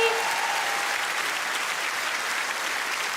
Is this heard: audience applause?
yes